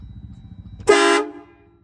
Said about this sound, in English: here goes the test. Let's see if we push the horn.